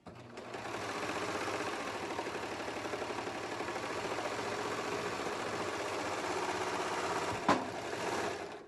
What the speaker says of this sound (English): now I have gone ahead and serged them together